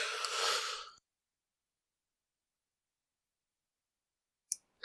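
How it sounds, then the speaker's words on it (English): A single breathy yawn rises and fades over about a second, followed by silence and a couple of faint clicks near the end. "I don't know why I'm yawning so much."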